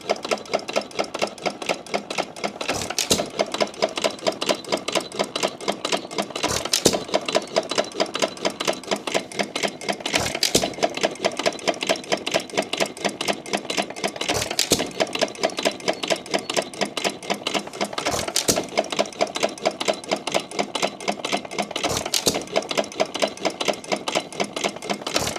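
Vintage hit-and-miss stationary engine, a 1923 Alamo or 1914 Nelson Brothers, runs steadily with a fast mechanical clatter, punctuated every few seconds by a sharp firing stroke; close, loud and continuous with no talking.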